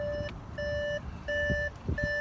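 A repeating electronic ignition warning chime beeps steadily inside a 2017 Audi A6 S-Line, evenly spaced tones sounding again and again over low rumbling background noise.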